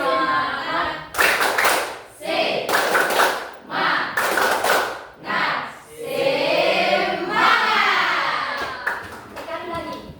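A group of children doing the tepuk semangat spirit clap, bursts of sharp rhythmic clapping in sequences broken by pauses, with voices chanting along between and over the claps.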